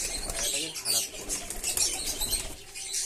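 A domestic pigeon flaps its wings close by, with repeated bursts of fluttering over a soft background.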